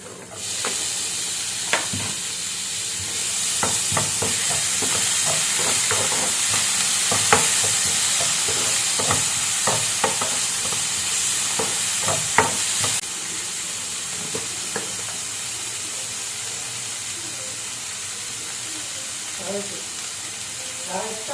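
Onions fry and sizzle in a pan while a utensil stirs them, for a leftover chapathi kothu, with a steady hiss under frequent scraping clicks that ease off near the end.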